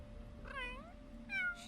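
A cat in the video game The Sims 3 meows twice, with clear, fairly loud rising-and-falling calls over a steady low background hum.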